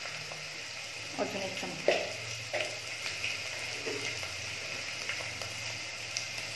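Chili powder goes into hot oil for a mutton rassa, giving a soft, quiet sizzle with light scraping stirs and a few taps of a spoon, while someone speaks briefly over it.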